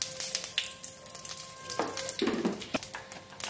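Cumin seeds and a bay leaf sizzle in hot oil for a fish curry with kohlrabi and potato, a close, crackling fry with sharp pops and a steady hiss throughout, no talk.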